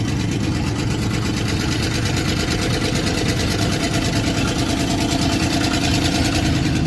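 A car engine idles with a faulty spark plug or plug wire, a steady close rumble with a slightly uneven, stumbling beat running the whole time and no voices.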